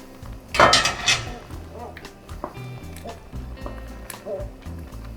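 Pasta stirred into a mushroom stroganoff with frozen peas in a pan. A burst of clattering utensil scrapes is followed by scattered knocks and light taps.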